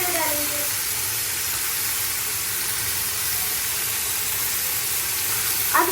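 Beef added to garlic frying in oil, giving a steady loud broadband sizzle and hiss that stays even throughout, close and continuous with no pauses.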